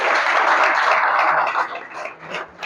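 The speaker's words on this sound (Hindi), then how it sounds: "ताली बजाओ अपने लिए यार।" A small audience claps for themselves at the close of a Hindi motivational talk, a busy patter of hands that rises, then dips and falters toward the end.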